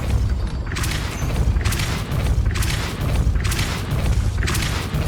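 Repeated Depulso force-push spells are cast in the video game Hogwarts Legacy, each one a loud, heavy whooshing blast with a low boom, recurring roughly every second in a rapid sequence.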